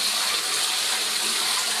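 Water pours under pressure into a container while soaking oyster mushroom grow blocks, a loud, dense, steady gushing hiss that fills the whole short stretch without breaks or voices.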